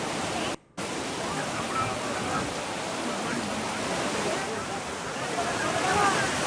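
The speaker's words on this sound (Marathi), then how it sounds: "पाण्याचा मोठा लोट एका बाजूने येतो, यामध्ये अनेक जण अडकले होते" Rushing floodwater torrent, a dense, continuous roaring wash that stays loud throughout, broken only by a brief cut near the start.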